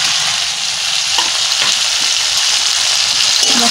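A loud, continuous sizzle of ground spices frying in hot oil: a paste of cumin, coriander, green chilli, dried red chilli and ginger, crackling steadily up close with no voices.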